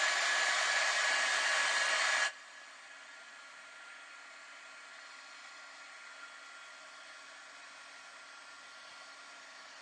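A hair dryer blows loud and steady on a wet craft project for a White Rabbit tea party piece, running about two seconds close up before cutting off to a faint background hum.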